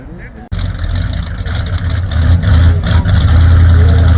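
An antique or custom car's engine at a car show runs loudly and steadily with a deep rumble that grows stronger, after a brief quieter moment at the start.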